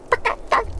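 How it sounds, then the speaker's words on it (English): Merriam's wild turkeys, a flock of many hens with a few other birds, yelp three times in quick succession. The raspy calls are close and clear, with a quiet outdoor background. "and then the long Merriam yelp"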